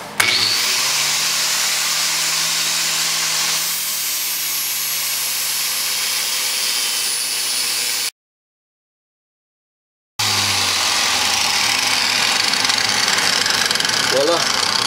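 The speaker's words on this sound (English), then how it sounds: "So I got a sand disc on, and I'll show you how that works with a piece of wood" A homemade scrap-metal tool fitted with a sanding disc grinds against a piece of wood, making a loud, steady whirring hum that cuts out for about two seconds and then starts again.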